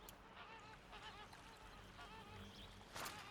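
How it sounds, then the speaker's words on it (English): A flock of geese honks in the open world of Horizon Zero Dawn, a steady overlapping chorus of nasal calls at moderate distance over ambient game wind, with a brief louder burst near the end. "It's a whole flock of geese."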